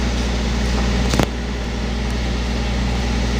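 A parked car idles to warm up and recharge its battery through the alternator, giving a steady, close engine hum with a constant low drone and one brief click partway through, with no voices.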